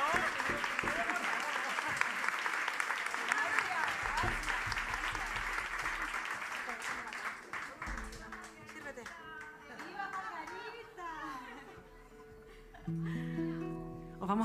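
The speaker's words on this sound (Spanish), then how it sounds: "Un aplauso muy grande para Nela Rojas." Audience at a flamenco festival concert in New York applauds with dense clapping for several seconds, then the applause thins out as guitar and other instruments begin to play softly underneath.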